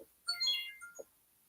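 A Raz phone's ringtone goes off in a brief, bright electronic burst of layered chiming tones that fades quickly, with a faint low sound after it.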